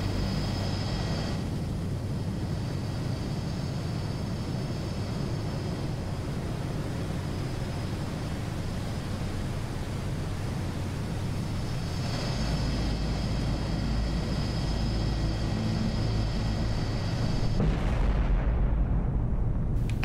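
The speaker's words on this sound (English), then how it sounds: "Switching to missiles, fire at will." A submarine fires a cruise missile in the naval combat game Cold Waters, a sustained low rumbling roar under water that builds steadily and grows louder toward the end.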